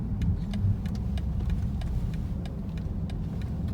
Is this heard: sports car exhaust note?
yes